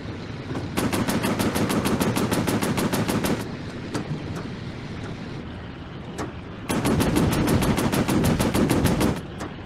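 Rapid bursts of warplane machine-gun fire from a video game rattle loudly in two long strings, separated by a stretch of steady engine drone with a few isolated shots.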